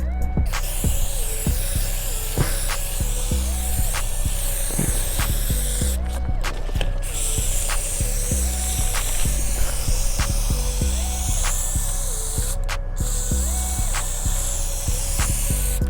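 Plastic dip coating sprayed onto the front bumper of a car, a steady continuous aerosol hiss running close and even throughout, with a low background hum and faint intermittent knocks beneath it.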